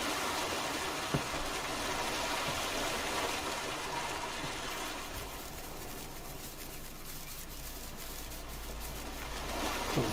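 Loud, steady rush of running water near a chicken coop in Farming Simulator 19, a continuous broadband wash with no break, easing slightly partway through as if moving away.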